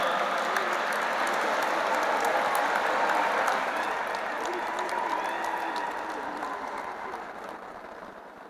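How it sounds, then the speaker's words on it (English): A large audience at an interfaith harmony conference claps to welcome Professor Dr. Vishwanath Karad, a dense, sustained wash of applause that slowly fades toward the end, with some voices mixed in. "Please put your hands together and welcome with a big round of applause, revered Professor Dr. Vishwanath Karad sir."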